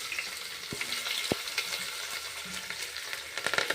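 Mustard seeds crackling in hot oil for masala bath, a steady close sizzle with scattered pops and a couple of sharp knocks.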